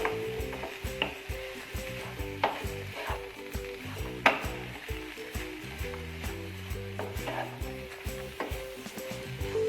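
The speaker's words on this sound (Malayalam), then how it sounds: "അപ്പോൾ നമുക്കത് നന്നായിട്ട് തന്നെ മിക്സാക്കി എടുക്കാം ആദ്യം." Cabbage and capsicum fry in a pan while being stirred, a steady sizzle broken by repeated scraping, clattering strokes of a utensil against the pan, close and moderately loud with no talk.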